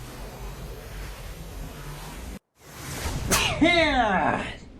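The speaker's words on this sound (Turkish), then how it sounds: "Hapşıracağım." A person sneezes, a sharp burst after a brief dropout, followed by a voice with rising and falling tones, all heard over the steady background hiss of a computer game.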